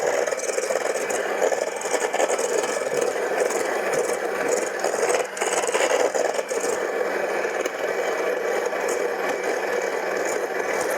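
An electric mixer on high speed beats eggs and sugar for pumpkin pie filling, a continuous whirring motor hum with a faint rattle of beaters in the bowl, steady throughout and unaccompanied by talk.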